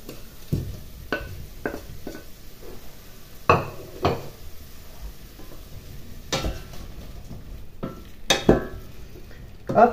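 Sliced sausages frying with onions for rougail, a sizzle under repeated sharp clacks and scrapes of a utensil against the pan, irregular and close, no talking.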